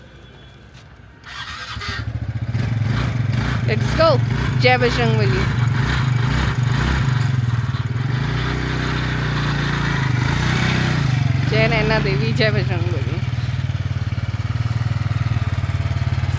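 A motorbike engine starts and then idles and revs with a steady, loud throb on a hilly road on the way to Kainchi Dham, while someone speaks and chants over it.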